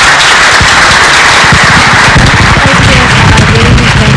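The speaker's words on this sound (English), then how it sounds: "Can we get another big round of applause for all of our speakers and also our poets for the evening?" A TEDx audience gives a big round of applause to the evening's speakers and poets, loud and close, with many hands clapping sharply in a thick, continuous burst.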